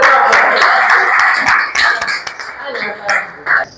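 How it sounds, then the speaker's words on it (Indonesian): Scattered hand claps from a small group in a classroom lesson, fading into intermittent claps, with someone talking over them. "Ya, tepuk tangan dong."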